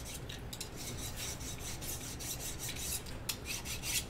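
A blade being sharpened before cutting foam for a samurai helmet, a rapid rhythmic rasping scrape repeated back and forth, close and fairly quiet, with no talk.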